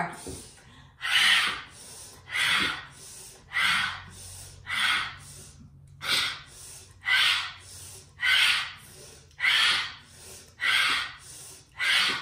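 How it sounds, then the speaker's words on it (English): Rhythmic bursts of forceful breathing, about ten sharp rushes of air in steady succession with brief pauses between, close and clear. "we're going to do that revving breathing technique"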